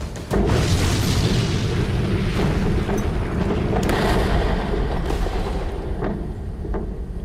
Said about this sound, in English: The SpaceX Falcon 9 rocket that was supposed to launch a communication satellite blew up during a test fire.